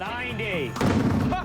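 A large water jug bursts under pump pressure with a sudden loud, broadband bang and a short rumbling tail, right after a brief spoken word.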